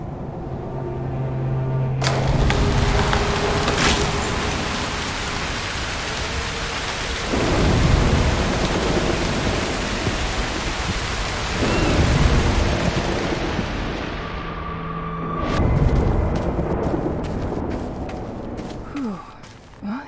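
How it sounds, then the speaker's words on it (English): Loud thunderstorm in the video game Broken Pieces: heavy rain pours steadily throughout, with several deep rolling thunder rumbles swelling and fading, and sharper cracks near the end. "A storm could help."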